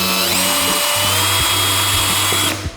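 Power drill driving a screw to cut a thread into a part of a 3D-printing filament dryer box, a continuous whining motor drone with pitch shifts as load changes, loud and close, stopping near the end.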